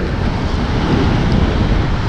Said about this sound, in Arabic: شوفوا البحر شوفوا البحر كاين حتى الريح